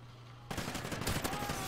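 Rapid bursts of SA-805 rifle fire in a Call of Duty: Ghosts free-for-all match on Xbox One, starting abruptly after a brief quiet lead-in and running dense and loud to the end.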